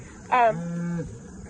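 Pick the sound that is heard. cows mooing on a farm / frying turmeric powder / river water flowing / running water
cows mooing on a farm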